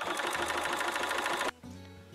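A sewing machine stitches paper piecing templates in a steady, close, loud mechanical whir for about a second and a half, then cuts off abruptly, leaving a quieter hum.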